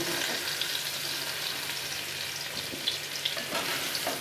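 Pumpkin pieces frying in oil over a medium flame, a broad, even hiss of sizzling with a few faint taps of a utensil, close and continuous.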